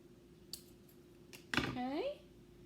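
Scissors cutting a pipe cleaner in half at a craft table, a few faint snips and clicks followed by a short sharp cut, with a voice briefly sounding.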